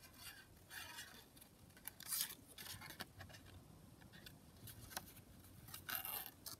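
Scissors snip out paper shapes for a craft project, faint soft cuts and rustling paper arriving in scattered short bursts, quiet and close with no talking.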